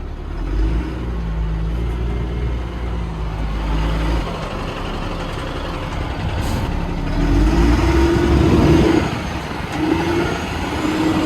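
A 5-ton M1085 military truck's diesel engine revving hard up through the gears, loud and close, with deep droning pulls that drop at each shift and climb again, ending wide open.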